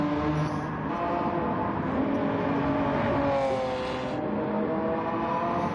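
Race car engines in Gran Turismo 7 during an early-2000s sports car race at Suzuka, including a Viper and an NSX, roar continuously with layered revving and droning tones, loud and steady, with one brief rise in pitch midway.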